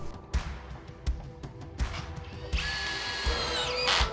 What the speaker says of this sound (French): Vous pouvez ensuite visser les profilés sur le côté à l'aide des vis autoperceuses fournies.